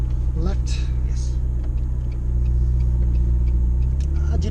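Inside the cabin of a McLaren 650S on the road, a steady low engine and mechanical rumble drones continuously, with a few faint clicks and knocks over it.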